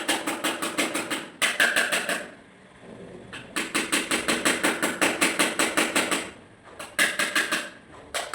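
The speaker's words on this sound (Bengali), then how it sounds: "এই কর্নারে আস্তে আস্তে বাড়ি দেবো" Rapid, rhythmic tapping on the corner of an electrical material box, sharp metallic knocks in quick bursts of many strikes separated by short pauses, close and fairly loud.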